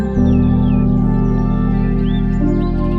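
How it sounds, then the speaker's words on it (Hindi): Birds chirp and whistle faintly in short, scattered calls over a steady, loud droning tone that runs throughout. "ये जो चिड़ियों की धुन,"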